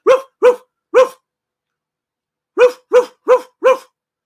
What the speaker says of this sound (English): So he'll start with a woof, and then he'll do a woof, woof.